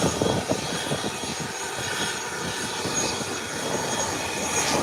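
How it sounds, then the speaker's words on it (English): A Beechcraft 1900 turboprop airliner rumbles on the ground after landing, its engines giving a steady, broad roar heard from a distance without speech. "Beechcraft 1900 out of Grand Turk"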